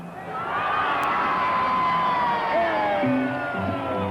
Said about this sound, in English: The crowd erupts